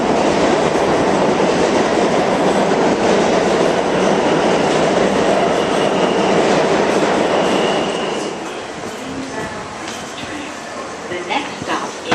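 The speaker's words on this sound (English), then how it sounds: "A subway! The train!" A subway train roars past close by, loud steady rumble and clatter of cars that drops off after about eight seconds, leaving quieter station noise with faint squeals.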